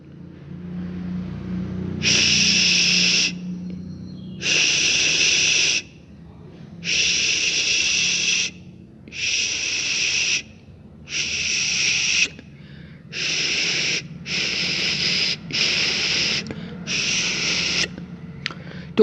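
A voice imitates FM radio noise during channel changes, a series of about nine short hissing static bursts separated by brief silences, close and loud.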